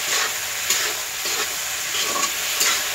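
Potato and spice masala sizzling over a wood fire for a pui shak chorchori with coconut and peanuts, a loud steady hiss with periodic scraping bursts as it is stirred, no talking.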